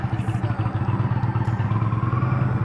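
Indian motorcycle engine pulsing steadily while riding, a loud rhythmic low-pitched throb with a rumbling exhaust note throughout, close and continuous.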